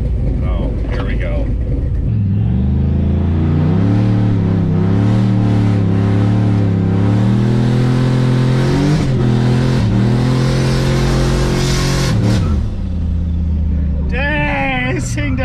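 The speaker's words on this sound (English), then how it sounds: "Dang, this thing does a good burnout" A turbocharged 2003 Chevrolet Yukon XL does a burnout, its engine roaring loud and close and holding high revs for several seconds with tire squeal layered over it, while people talk and shout around it.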